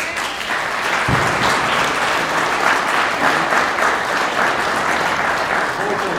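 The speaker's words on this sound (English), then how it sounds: "Let's give them a round of applause." Sustained audience applause after a talk on plastic waste and solar microwave recycling, steady dense clapping that holds at full strength for about six seconds with no speech.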